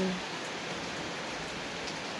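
Steady rain hisses evenly throughout, a constant wash of noise with no other sounds standing out.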